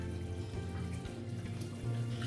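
Water poured from a tap into a ground bathua mixture of green chilies, ginger and garlic, a steady close trickle with no talking.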